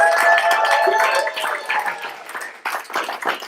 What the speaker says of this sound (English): Can we give her one more round of applause?